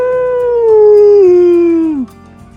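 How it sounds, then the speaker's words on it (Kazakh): A single wolf howl, loud and close, holds a long tone that slowly slides downward and breaks off abruptly after about two seconds. "қасқыр,"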